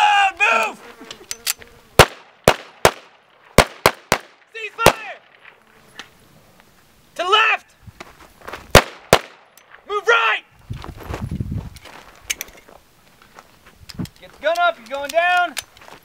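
Gunshots at a shooting drill with reloading and movement, a string of sharp close cracks in irregular bursts, some rapid pairs, with shouted commands and talk between shots.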